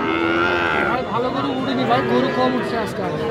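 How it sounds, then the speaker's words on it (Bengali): Sahiwal bull calves and other cattle lowing and mooing close by at a cattle market, with people talking over and between the calls. "ষাঁড় বাচ্চাগুলি সাইয়াল জাতের"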